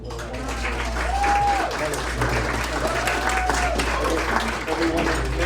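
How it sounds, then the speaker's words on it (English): Applause for guitarists at a rehearsal dinner, a modest round of clapping from guests heard over a steady low hum, with faint voices mixed in. "Can I have a little round of applause on our guitarists?"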